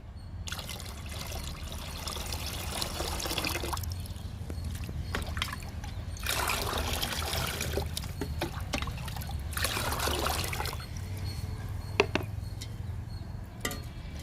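Liquid fertilizer being diluted and stirred into water for chrysanthemum plants, a steady close trickling and sloshing that swells and eases over about fourteen seconds, with no talking.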